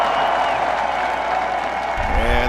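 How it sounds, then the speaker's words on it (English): A loud football stadium crowd at an FCS college playoff game roars and applauds steadily, with a deep low-end thump near the end. "The loud crowd is on their feet."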